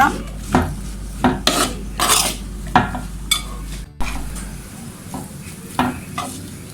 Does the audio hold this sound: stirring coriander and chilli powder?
yes